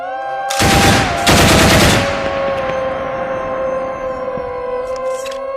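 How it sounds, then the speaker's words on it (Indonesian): Two loud, rapid bursts of gunfire in quick succession, followed by sustained droning tones that fade slowly. "tiba-tiba keduanya mendengar tembakan beberapa kali"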